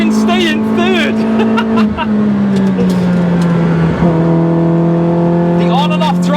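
A cammed Citroen C2 rally tribute hot hatch revving hard toward 7,000 RPM in third gear, a loud close engine drone rising and dipping with on-off throttle, a voice talking over it.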